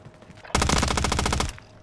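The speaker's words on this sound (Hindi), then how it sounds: "तुमने वैसे तीन गोलियां मारी हैं." Rapid automatic gunfire in a shooter video game, a single sustained burst of closely spaced loud shots lasting about a second, with a faint voice before it.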